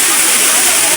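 Dhani Waterfall in the Neelum Valley, Kashmir, roars close and loud as a steady broadband rush of falling water that fills the whole moment.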